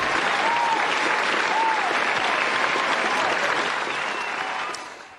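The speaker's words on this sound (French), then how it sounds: "Sans se retourner, il entend bien vos applaudissements." An audience applauds steadily and densely for about five seconds before the clapping fades out at the end, with no voices over it.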